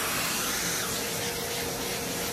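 A vacuum cleaner sucks up sanding dust from a 1950s Musima Emperor guitar body during restoration, a steady close hiss and airy roar that holds constant for the whole moment.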